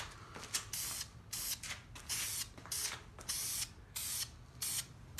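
Rattle-can spray paint applied as a light tack coat to a stabilizer bar from a 1973-87 Chevy or GMC truck: a series of short, close hissing bursts separated by brief pauses, with no talking.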